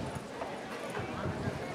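Racehorse hooves gallop in a rapid, rhythmic drumming beneath a race announcer's excited commentary.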